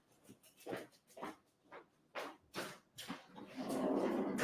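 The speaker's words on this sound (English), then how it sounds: "She's barking at me." A dog barks repeatedly indoors, about eight sharp, close barks in an uneven rhythm, followed by a rising rustle of movement.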